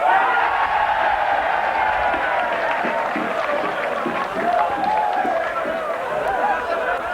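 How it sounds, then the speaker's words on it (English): A large stadium crowd cheers steadily at a Fulham v Wigan rugby league match, a sustained, loud roar of voices and whoops that fills the whole stretch. "that's perhaps the largest cheer of the night, as the latest score from St Helens was just announced"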